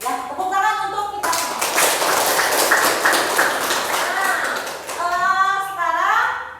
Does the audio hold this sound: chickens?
no